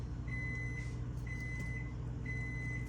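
Microwave oven heating a baked sweet potato, with a steady low hum and fan drone throughout and three spaced beeps cutting through near the start, middle and end.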